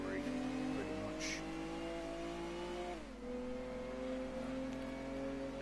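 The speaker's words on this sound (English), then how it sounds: "driving my Venturi Atlantique 600 GT" A Venturi Atlantique 600 GT engine revs continuously while racing in Gran Turismo 2, with a pitch that climbs, drops sharply at a gear shift, then climbs again.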